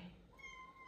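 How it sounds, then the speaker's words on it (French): A house cat gives a single short, faint meow at close range indoors, alone and quiet. "Désolée pour la petite turbulence, c'est mon chat."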